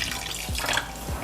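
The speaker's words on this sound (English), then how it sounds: "we're gonna pour the vinegar and the turkey neck now." Vinegar poured over turkey neck to wash it gives a continuous close, splashy trickle of liquid with a couple of soft drip-like plops, and no voices.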